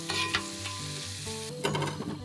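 Food sizzling in a hot frying pan over an outdoor cooking setup, a loud crackling sizzle with stirring scrapes and bursts of spitting oil, close up, with a steady musical hum running underneath.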